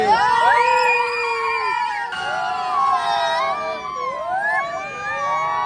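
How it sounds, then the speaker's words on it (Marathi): A dense, growing crowd at the Bailpola bull festival in Nashirabad, Jalgaon, makes a constant loud din, with shrill wavering whistle- or horn-like tones sweeping up and down over the noisy crowd throughout. "इकडे ना गर्दी खूप वाढत चाललेली आहे"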